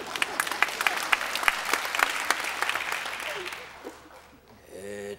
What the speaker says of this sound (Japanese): たくさんの拍手誠にありがたく存じます。